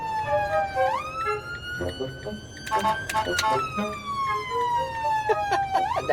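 A loud wailing ambulance siren sweeps up and down as it passes close by, with rumbling traffic and a few clanks underneath.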